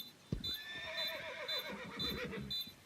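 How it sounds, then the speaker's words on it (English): A horse whinnies in a long descending neigh, apparently played from a soundboard into a CS:GO match broadcast, with clip-clop hoof sounds and a steady high tone underneath, fairly loud and alone without talk. "Because it's 2 times we've heard this horse."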